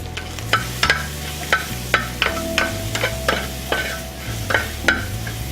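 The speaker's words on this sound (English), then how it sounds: "So the garlic is starting to brown a little bit but not burn." Garlic frying in a pan for a carbonara, stirred with repeated scraping strokes about every half second over a steady sizzle, with a low background hum and no talking.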